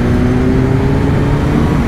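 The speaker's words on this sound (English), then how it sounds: "This scream of the inline four." A Kawasaki Ninja 1000's inline-four exhaust holds a loud, steady, close engine note with a strong droning tone for the whole stretch, slightly rising and falling without a sharp rev spike.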